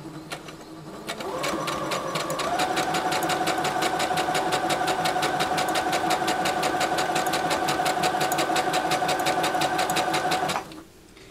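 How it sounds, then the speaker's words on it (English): A sewing machine stitches fabric over cording for a board-mounted window valance, running as a steady, fast mechanical whir with rapid needle clatter for about nine seconds, close and loud, then stopping abruptly. "So I'll just go ahead and stitch this and show you what it looks like."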